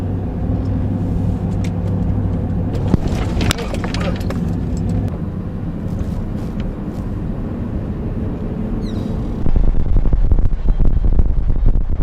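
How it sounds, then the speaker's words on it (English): A steady engine hum and road rumble from inside a moving truck in Vermont carry throughout, with clicks and rattles in the cab and a louder, rougher drive noise near the end. "We're in the truck."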